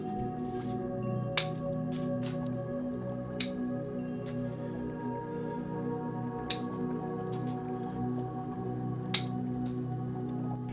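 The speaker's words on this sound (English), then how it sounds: "Using my Wazakura shears and branch cutter, I'm going to commit to cutting back hard with this tree." Wazakura shears snip bonsai tree branches in four sharp, isolated clicks spaced a couple of seconds apart, close and crisp over a quiet humming room background.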